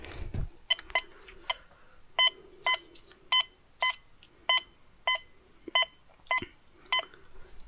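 Quest X10 metal detector giving a series of short, sharp electronic beeps over a silver coin at about 15 centimetres depth, about a dozen in a steady rhythm, clear and close with no talking.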